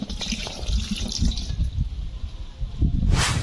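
Coconut water from a fresh buko poured over native chicken for a lechon marinade, a continuous splashing, trickling pour close by with a brighter burst of liquid near the end.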